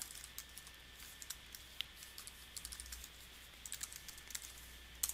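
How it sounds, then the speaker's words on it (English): A username and password are typed on a computer keyboard, giving a quiet, irregular patter of individual key clicks with a few short pauses, close by and with no talking. "Type in your username and password."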